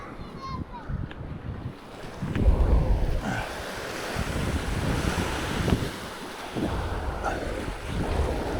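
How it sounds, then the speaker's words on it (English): Waves surge and break against the rocks of a fishing ledge with an onshore wind blowing, making a broad rushing roar that swells and fades under steady wind buffeting on the microphone. "there's a bit of a white water line there where the waves come up and hit the rocks here"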